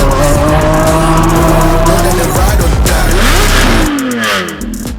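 A golden Novitec Lamborghini Aventador SVJ Roadster revs hard up close, its engine pitch rising and falling through quick sweeping changes, loud and raw before the roar drops off near the end.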